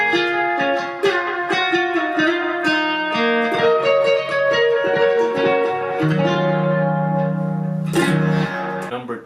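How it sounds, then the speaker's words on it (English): Nylon-string guitar playing a melodic lead line with reverb, delay and mid-focused EQ, clear plucked notes ringing over sustained tails, loud and close with no talk. "I like to preserve the natural sound of the nylon guitar."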